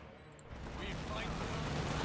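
Distant infantry gunfire crackles in a World War II battle in Company of Heroes 2 on the Eastern Front near Moscow, a steady muffled fusillade that thickens and grows slightly louder, with a voice heard faintly under it.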